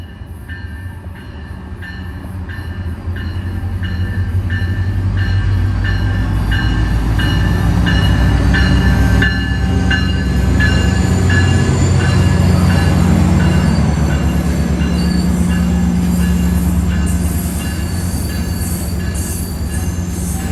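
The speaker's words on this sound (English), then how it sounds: "another MARC train showed up, this time coming south on his way into Washington, D.C." A southbound MARC commuter train bound for Washington, D.C. rolls into a station close by. A loud steady roar of cars and wheels carries high metallic squeals and a faint rhythmic clatter for the whole stretch.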